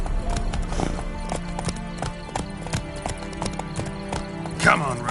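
Hooves of Roach, the horse in The Witcher 3, galloping in a steady, rhythmic clip-clop that stays close and continuous, with a voice speaking over it.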